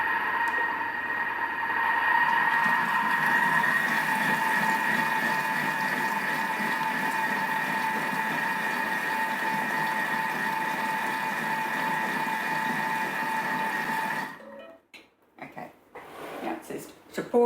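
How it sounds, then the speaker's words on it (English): A Thermomix runs at speed 4, blending mango chutney: a loud, steady whirring motor hum holds for about fourteen seconds, then cuts off, leaving a few faint clunks and rustles. "we're going to give it a bit of a blend. 10 seconds speed 4"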